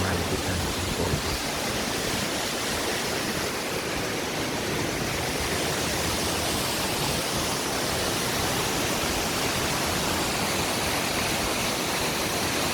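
Cascade Falls in Canada roars as a steady, dense broadband rush of falling water, loud and constant with no breaks.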